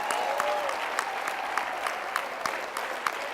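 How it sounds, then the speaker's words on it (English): An audience applauds steadily at a business event, a dense wash of clapping with scattered sharper claps, loud and close throughout with no talking over it. "Let's hear it for Barb and George Gossett"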